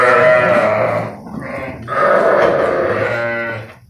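Female lambs bleat loudly and close by, one long wavering call followed by a second after a brief pause, with no talk.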